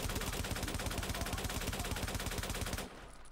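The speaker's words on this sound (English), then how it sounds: "I have a machine gun." Rapid machine gun fire in a shooting game rattles out in a loud, unbroken burst of evenly spaced shots for nearly three seconds, then cuts off, leaving faint background noise.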